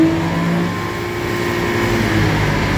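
A Nissan 350Z engine on a dynamometer holds a steady, loud droning note during a short inertia-mode power run, a continuous close mechanical roar with no talking.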